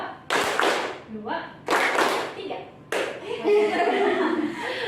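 A group clapping together on counted cues in a group counselling session: three sharp bursts of claps spaced about a second apart, with chuckles and voices in between.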